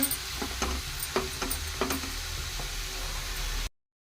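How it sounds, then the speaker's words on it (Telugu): Coriander frying in hot oil in a pan, a steady close sizzle with a few sharp crackles and stirring scrapes, heard alone before cutting off abruptly. "ఇప్పుడు మంచిగా ఆయిల్లో వేగినట్టు ఉంటుందండి"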